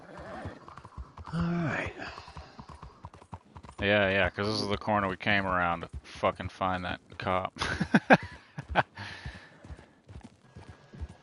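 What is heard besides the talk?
horse hooves clip-clopping in video game Red Dead Online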